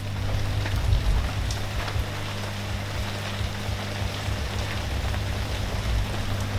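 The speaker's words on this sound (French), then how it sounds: "il pleut depuis 3 heures du matin" Steady rain falling outdoors after a night of thunderstorms and lightning, a constant dense hiss with a low rumbling undertone, even in loudness throughout and with no voices.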